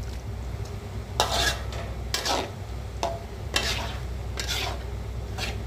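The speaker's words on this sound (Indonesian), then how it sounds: "Kita aduk-aduk." Sambal with coconut milk being stirred in a pan, a spoon scraping the metal in several distinct strokes over a steady, close sizzling bubble.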